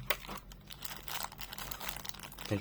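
Small plastic bag crinkling while Bluetooth clip-on earpiece accessories are unpacked, a string of close, irregular rustles and crackles with no talk.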